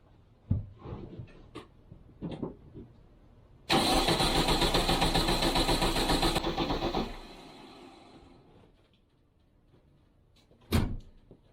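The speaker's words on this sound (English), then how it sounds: "Cranking for oil pressure" Red Bug race car engine cranking on the starter for about three seconds, loud and steady, then fading out, with a door-like knock afterward and quiet surroundings.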